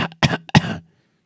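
A voice imitates a harsh cough, giving two or three rough, throaty bursts close up, with a short wheezy start and a longer rasping hack before it falls silent.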